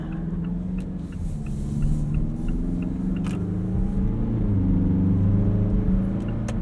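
A 2018 Mazda CX-9 Signature's drivetrain hums and rises in pitch as it accelerates, a steady mid-low engine drone heard from inside the cabin with road rumble underneath.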